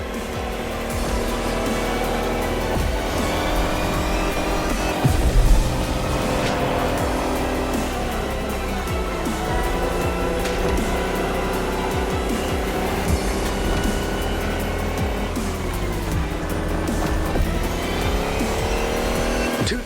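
An electric race car in The Crew Motorfest video game accelerates hard with a loud rising whine and tire squeal, mixed with other racing cars throughout, no talk.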